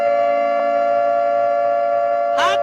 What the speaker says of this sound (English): Hit that siren, baby.